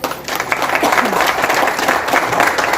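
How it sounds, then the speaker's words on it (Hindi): An audience at a Hyperverse meeting in a Raigarh hotel breaks into loud, continuous clapping that stays dense and even from start to finish. "जोरदार ताली हो जाए।"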